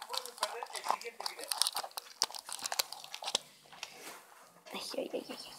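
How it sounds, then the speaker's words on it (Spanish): Scissors cut the corners of a cardboard box for a homemade pet food dispenser, giving close, irregular crunching and crinkling snips with soft sounds in between. "las tijeras son para cortar las esquinas de nuestro cartón"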